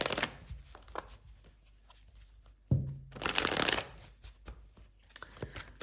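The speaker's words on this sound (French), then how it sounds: "je rebrasse un petit peu les cartes encore" Tarot cards are shuffled by hand, soft papery riffles and flicks with a louder burst of cards snapping together midway, close and quiet with no talking.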